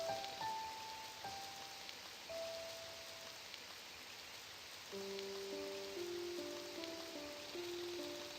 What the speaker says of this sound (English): I've never been so happy to see it raining.